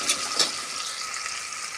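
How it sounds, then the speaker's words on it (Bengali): Potatoes with a little salt frying in a pan, giving a steady soft sizzle and crackle close by, with a couple of brief louder spits near the start and no voices. "আর একটু সামান্য একটু লবণ দিয়ে আমি ভালো করে ভাজি আলাম, লাল লাল করে।"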